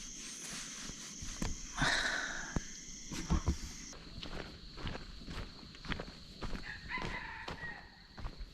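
A jungle fowl rooster crows in the early morning forest, several shrill crows near and farther off, mixed with rustling footsteps and scattered clucks.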